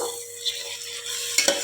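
Washed chicken is stirred and fried with coriander powder in a pan for dum biryani, giving a steady close sizzle with a couple of brief scraping stirs near the end.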